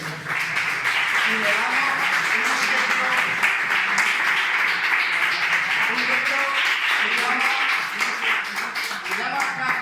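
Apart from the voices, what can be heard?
audience applauding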